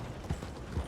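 Horse hooves clip-clop in Red Dead Redemption 2, a couple of soft, light footfalls close by over a low steady background, with no voices.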